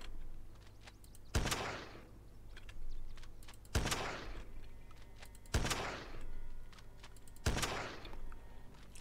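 Four spaced sniper rifle shots in the zombie survival game Project Zomboid, each a sharp crack with a short decaying tail, roughly two seconds apart over faint background noise.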